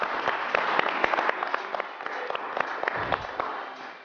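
Studio audience applauding on an Armenian TV strength-competition show, a steady dense wash of clapping with sharp individual claps standing out, fairly loud and continuous for about four seconds.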